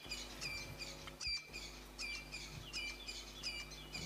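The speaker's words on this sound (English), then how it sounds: "the Franklins going bananas. That's the dawn chorus." Francolins and other birds call in a dawn chorus during a sunrise bush walk on safari, with repeated bright chirps and calls at a steady rhythm, fairly faint and distant over a low background hum.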